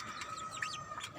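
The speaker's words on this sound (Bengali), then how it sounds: "মুরগিগুলো খাবার খাচ্ছে।" Chickens cluck softly and briefly while feeding on a rooftop garden, faint and close, with light chirpy bird calls mixed into a quiet background.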